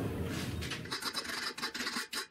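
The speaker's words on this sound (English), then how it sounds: "so I'm going to file that key down" A hand file is worked over a metal shaft key in short, raspy strokes, several quick scrapes following one another close by with no talking.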